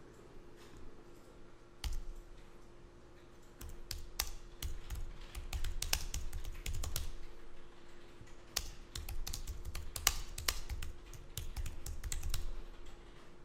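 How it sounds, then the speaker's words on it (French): Rapid clicking keystrokes on a computer keyboard as a title is typed into Adobe InDesign, coming in uneven bursts over a faint steady hum, fairly quiet and close, with no talking. "vous allez positionner le curseur texte au début et vous tapez un titre"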